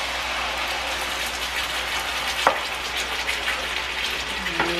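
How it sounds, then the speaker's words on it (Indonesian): Onions and ground spice paste fry in a hot pan, with a steady loud sizzle and a few brief clinks and scrapes as the mixture is stirred. Nobody talks. "Ini saya tumis dulu bawang bombaynya sebentar saja. Ini saya masukkan bumbu halusnya tuh."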